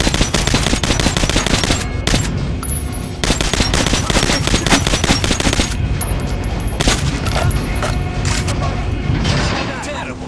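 Rapid gunfire at an armored dummy on a shooting range in Metro Last Light, loud continuous bursts of automatic shots with sharp cracks and mechanical clatter, filling the clip with only brief dips between volleys.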